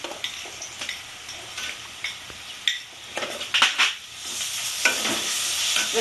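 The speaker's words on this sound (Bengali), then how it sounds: "পেঁয়াজটা আমি লাল লাল করে ভাজবো এখন পেঁয়াজটা আমার আধা ভাজা মতো হয়ে গেছে" Onions sizzle and crackle in a hot pan while a spoon scrapes and stirs, clinking against the metal now and then.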